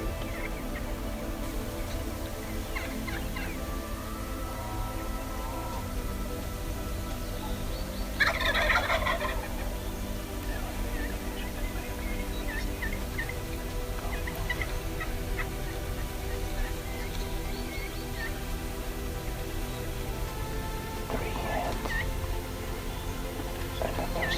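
A wild turkey tom gobbles at a distance near San Antonio, Texas, a quick rattling burst, over a steady outdoor hiss; a second faint gobble follows later.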